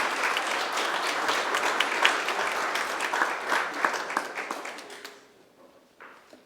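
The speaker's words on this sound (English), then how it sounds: "Let's give her a round of applause." An audience at a pitch night event gives a sustained round of applause with scattered louder claps, then it tapers off and fades to a few faint claps.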